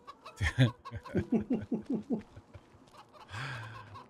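Chickens in the video game Farming Simulator 25 cluck in a quick run of short repeated notes, fairly close, followed by a brief higher squawk near the end.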